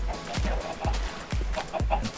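Chickens in the video game Minecraft cluck in short repeated bursts, about four evenly spaced clucks, fairly close and clear with no talk over them.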